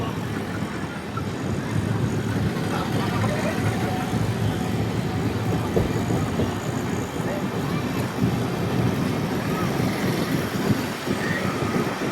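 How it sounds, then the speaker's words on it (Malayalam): The Amrit Bharat Express train crosses a bridge over the Vaigai River, heard as a continuous rolling rumble and rattle of the carriages, steady and unbroken throughout. "വൈഗൈ റിവർ ക്രോസ് ചെയ്യുകയാണ്."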